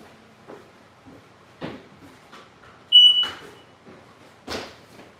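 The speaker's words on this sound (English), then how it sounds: "So I have this fire alarm that it doesn't matter if you change the batteries or not, it always goes off." A faulty household smoke alarm gives a single short, shrill electronic chirp, loud and close, among quiet room knocks and rustles.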